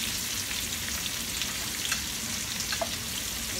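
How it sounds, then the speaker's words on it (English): Brussels sprouts sear flat side down in a hot pan with a steady, close sizzle and crackle that runs unbroken throughout, with no voices. "So we got to turn them each over so that they flat, the flat side is down. Because we want the flat side to sear."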